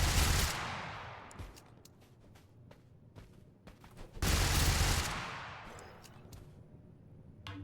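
Burst-fire gun shooting in the TABG (Totally Accurate Battlegrounds) video game, two loud clusters of rapid cracks a few seconds apart with sparse single shots and decaying echoes between.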